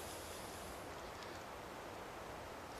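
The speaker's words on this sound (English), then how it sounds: "It is still windy" Steady, roaring broadband noise of wind buffeting outdoors, continuous and fairly loud with no voices.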